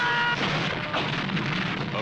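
Artillery cannon fire from a war-film shoot of A Bridge Too Far, a dense continuous rumble of booms and blasts with no clear gaps, loud and sustained throughout.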